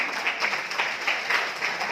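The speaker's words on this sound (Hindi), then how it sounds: "एक बार जोरदार तालियां" An audience applauds the A.P. Organics management as they come on stage at a rice bran oil event, a steady, fairly loud wash of many hands clapping together.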